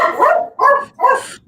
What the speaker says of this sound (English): My dog does not like Maximus, apparently.